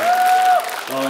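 Audience applause at a live trot singing performance, a short burst of clapping from the crowd with a steady held tone running over it, lasting about a second.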